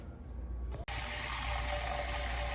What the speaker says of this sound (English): I'm going to fill up my skillet here with some water